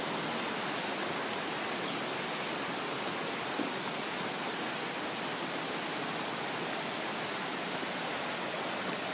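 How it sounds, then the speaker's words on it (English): Waterfalls along the gorge at Kanmangafuchi Abyss in Nikko, Japan, give a steady, dense broadband roar of rushing water that stays constant and fairly loud throughout, with no talk. "We got a couple more waterfalls here, but we'll get a better view of them when we clear the trees."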